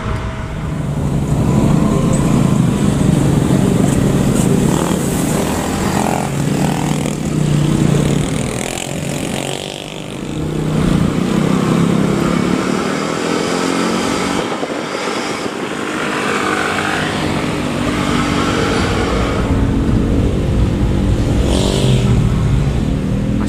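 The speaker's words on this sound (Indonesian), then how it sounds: "Padat merayap ini karena banyak truk di depan bawa muatan." Slow, crawling road traffic of cars, motorcycles and loaded trucks on a road toward Jampang via Lengkong, heard as a continuous loud engine rumble and roar with passing vehicles and occasional revving, without talk.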